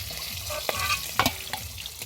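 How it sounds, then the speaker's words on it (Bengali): Fish frying in a pan at an outdoor picnic in the Sundarbans forest, a brief bubbling sizzle with watery splashes and a couple of sharp utensil knocks, fairly close. "মাছ ভাজা হয়ে গেছে, মাছগুলো কিন্তু সব এক একটা করে তুলে নেব।"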